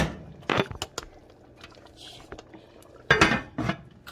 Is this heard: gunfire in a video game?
no